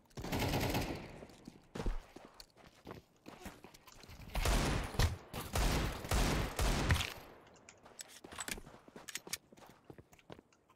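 Shotgun gunfire in Counter-Strike 2, loud bursts of blasts rattling off in two clusters, with scattered clicks and footstep-like taps between volleys and no talk over it.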